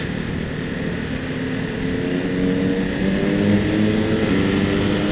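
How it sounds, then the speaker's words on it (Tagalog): A Yamaha XSR900 motorcycle engine idles steadily and evenly close by, its low hum rising slightly in pitch and loudness partway through, with no voices. "Swabing-swabe lang yung tunog ng motor natin"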